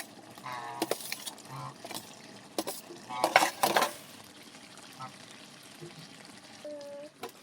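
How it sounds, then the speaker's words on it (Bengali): Kohlrabi pieces go into a pot of buffalo meat curry and are stirred, giving soft scraping and clattering of a spoon against the pot with scattered clinks, fairly quiet, and a voice speaking near the end. "এটা ওলকপি দিয়ে দিচ্ছি।"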